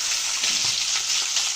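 Diced Malabar spinach, pumpkin, ridge gourd and potato hitting a hot pan with garlic, a loud dense hiss of frying that holds steady for a moment, no talk.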